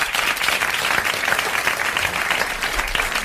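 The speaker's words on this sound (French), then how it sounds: "Monsieur Lambert d'Auchan a mérité vos applaudissements et 500 francs" Steady applause from a French television studio audience in 1981 fills the whole stretch, a dense, even clatter of many hands clapping with no voices over it.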